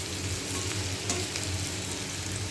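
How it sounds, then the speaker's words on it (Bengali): Papaya and potato frying lightly in a pan give a soft, continuous sizzle with faint crackles and occasional stirring scrapes, steady and close throughout. "পেঁপে আর আলুটা হালকা ভাজা হয়ে এলে তারপরে সয়াবিন দিয়ে দেবেন মধ্যে।"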